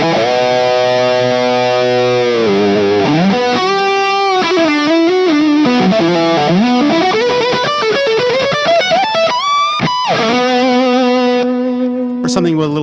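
Electric guitar played through a BB Preamp overdrive pedal, loud, saturated sustained chords and melodic single-note bends over roughly thirteen seconds, ringing continuously with a brief cut near the end.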